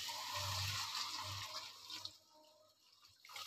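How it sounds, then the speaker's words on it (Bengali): Water poured into a pan of turnip and tomato curry cooking with spices, a short rushing splash that tapers into quieter trickling and faint sizzle, with no talk over it. "এবার আমি জলটা দিয়ে দিচ্ছি।"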